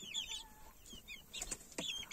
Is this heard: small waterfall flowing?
no